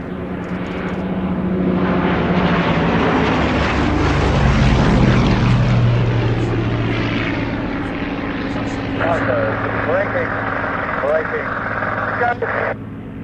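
Gloster Gladiator biplane's propeller engine drones steadily and loud throughout, swelling near the middle, with people talking over it.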